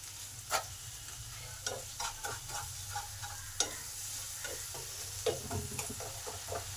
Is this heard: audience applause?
no